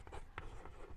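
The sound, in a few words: writing on paper during a maths lesson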